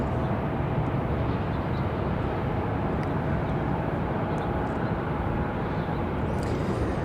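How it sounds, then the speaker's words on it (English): A United Airbus A319 jet waits at the runway end at Raleigh-Durham International before departing for Chicago, giving a steady, even roar that holds for about seven seconds at moderate distance. "This one's getting ready to head off to Chicago, an A319"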